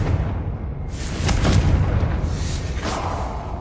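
The Confringo blasting spell goes off in Hogwarts Legacy with a loud burst around the one-second mark, followed by a rumbling roar that swells again near three seconds before slowly fading.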